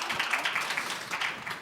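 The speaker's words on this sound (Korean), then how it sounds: "박수 한번 부탁드리겠습니다" An audience at a symposium talk concert claps, a soft, rippling patter of applause heard faintly from a distance, steady throughout.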